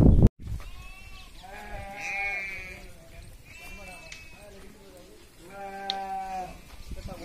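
Sheep bleating repeatedly at a sheep and wool research institute, several overlapping calls rising and falling over steady farm background noise, with a brief loud thump at the very start.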